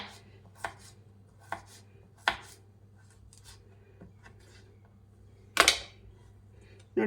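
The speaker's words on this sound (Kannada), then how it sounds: "ರೌಂಡ್ ಈ ರೀತಿ ಕಟ್ ಮಾಡ್ಕೊಳ್ಳಿ" A knife chops cassava into medium-thick round slices, giving sharp, distinct cuts at irregular intervals with a louder double strike near the end, close by over a low steady hum.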